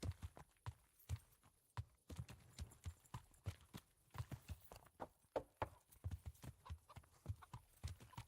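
Steady, rhythmic clip-clop of horse hooves as a rider travels on horseback in the medieval role-playing game Kingdom Come: Deliverance, close and continuous with no talk over it.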